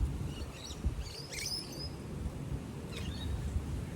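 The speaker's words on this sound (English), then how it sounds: "Can you hear the birds?" Birds chirping in a sunny park: a few short, high tweets come in brief bursts, spaced apart over a soft, low outdoor rumble.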